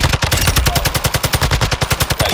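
Video game TAQ-56 rifle firing on full auto: a loud, fast, evenly spaced stream of shots, roughly a dozen per second, lasting the whole stretch without pause.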